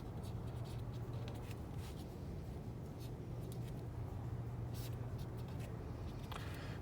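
Someone writes out an ellipse formula by hand, a faint scratchy writing sound under a steady low background hum, quiet and continuous with no speech.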